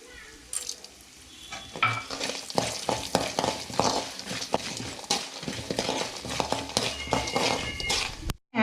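Chana dal and urad dal sizzling in hot oil, a steady dense crackle with stirring clatter and scraping of a spoon against the pan, close and continuous until a brief drop at the end.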